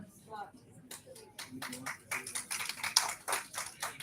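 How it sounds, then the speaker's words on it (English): Faculty members clap for students at a development programme, a scattered, uneven patter of a small group's hands that grows denser toward the end, with voices murmuring in the background. "So your faculties are clapping for you guys."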